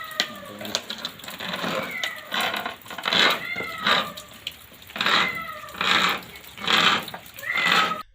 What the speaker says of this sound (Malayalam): കിണറിൽ വീണ പൂച്ചയെ രക്ഷിക്കുവാൻ